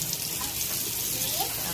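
Tap water runs steadily into a sink as hands are washed at home, a continuous even splash filling the whole short stretch with no break.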